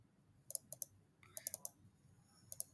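Computer keyboard being typed on in short clusters of crisp, quiet key clicks, with pauses between the bursts and no talking.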